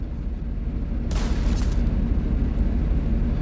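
A single heavy White Death rifle shot in a video game, one sharp blast over a constant low rumbling game backdrop.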